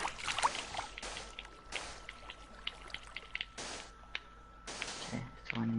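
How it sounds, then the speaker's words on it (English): Water pours and trickles in a video game while the middle of a structure fills, coming in uneven splashing bursts with short pauses and a faint drone underneath. "All we need to do now is fill up the middle with water."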